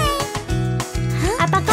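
Sung children's animal song in which a voice imitates a cat's meow, the drawn-out mew set among melodic singing and backing music.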